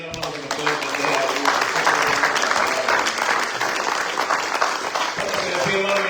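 A church congregation breaks into sustained applause during a Spanish-language sermon, the clapping loud and continuous for about six seconds, with a few voices mixed in.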